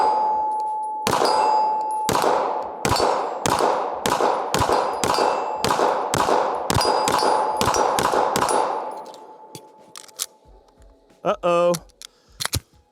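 Walther Q5 SF Match pistol shots ring out in a rapid string of about a dozen sharp cracks with metallic clangs from hits on targets and 2x4s, followed by scattered handling clicks after the firing stops.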